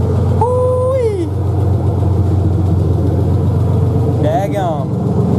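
A Ford 4.0 engine idles smoothly and steadily after a valve cover gasket job and EGR delete with new headers, a continuous low hum close by, while a person talks over it.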